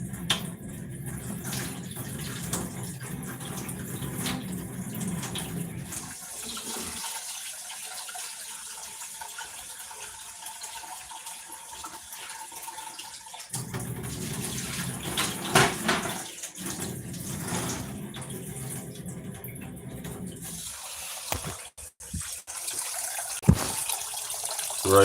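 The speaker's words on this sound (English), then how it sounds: "Right now I'm washing my rice. That's some jasmine rice." Jasmine rice being rinsed under a running kitchen tap, with a steady stream of water splashing into a sink, pausing briefly midway and then resuming, with a few clinks near the end.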